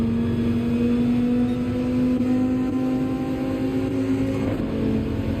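A pack of race car engines in Gran Turismo 7 at Daytona drones together in a steady, continuous mechanical hum, with no talking.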